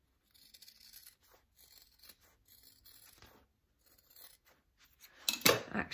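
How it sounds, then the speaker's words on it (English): Pinking shears trim the seam allowance along the curves of a fabric handbag, cutting in a series of close, crisp snips that end in a louder burst of rapid cuts. "Actually, I'm going to use my pinking shears here along the curves."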